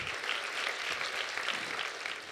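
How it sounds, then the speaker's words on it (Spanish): Steady applause from a crowd, a dense wash of clapping that holds at an even level throughout with no voices on top. "Yo le pido un aplauso a Medellín porque sí está nerviosa."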